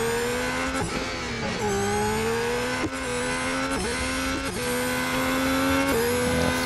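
A Formula 1 car in the Real Racing 3 video game, on the Monaco Grand Prix circuit, screams at high revs, repeatedly shifting up as it accelerates, loud and close with no voices.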